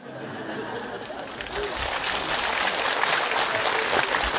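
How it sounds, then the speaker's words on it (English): During a Buddhist talk, the audience breaks into clapping mixed with chatter, starting quietly and swelling into steady, fairly loud applause after a moment. "Why are you clapping?"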